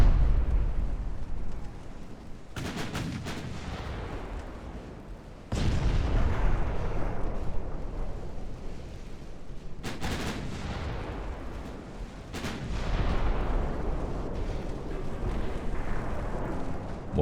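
Battleship secondary guns in Ultimate Admiral Dreadnoughts fire in heavy booming salvos, about five loud blasts spread across the stretch, each one rolling off into a long rumbling decay.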